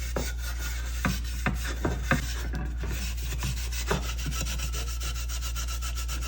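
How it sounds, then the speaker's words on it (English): Rust being polished off the inside of a John Deere planter seed meter, a steady soft rubbing and rasping with a few sharper scrapes over a constant low hum. "I just kind of tried to polish up the inside best I can."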